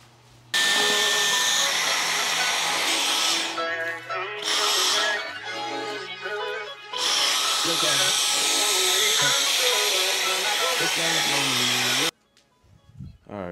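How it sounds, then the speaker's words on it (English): A malfunctioning Dyson vacuum cleaner runs with a loud, high whine that cuts out and restarts several times, with short pauses and changes in pitch before it stops near the end. "my Dyson vacuum is acting up right now."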